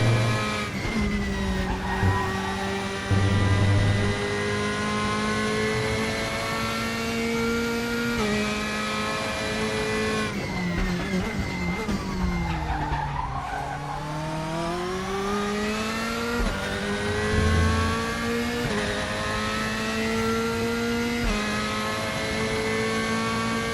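A race car engine on a lap in the RaceRoom racing game drones steadily at high revs, its pitch dipping and climbing through gear changes and corners, with occasional tire squeal.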